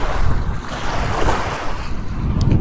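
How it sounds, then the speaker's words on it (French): Strong, furious wind roars steadily over a wide river on the Côte-Nord, a continuous loud rushing with surf-like water wash and microphone buffeting, no voices. "On le voit là, la rivière, le vent est en furie."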